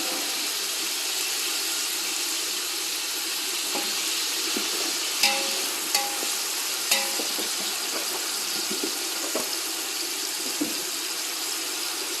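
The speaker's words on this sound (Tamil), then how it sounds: "நல்லா கோல்டன் ப்ரௌனில் வதங்கணும் வெங்காயம்." Onions fry to golden brown in oil for mutton biryani, giving a steady, even sizzle broken by a few sharp scrapes and clinks as they are stirred. No one speaks.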